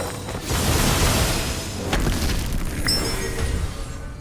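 Barrel explosion in the Sword of Convallaria game: a deep, booming blast that swells and rumbles for a few seconds, followed by fainter secondary thuds and crackles.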